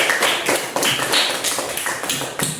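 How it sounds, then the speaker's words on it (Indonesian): A classroom group of students claps together for a shared agreement, a dense patter of many hands close by with uneven bursts, no talking over it. "Nah, beri tepuk tangan kita semua."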